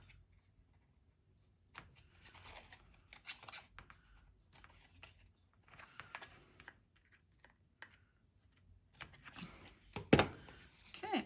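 Scissors snip paper strips at the corners in a scrapbooking craft, giving short crisp cutting bursts spread across the clip, close and moderately loud, with a denser run of cuts near the end.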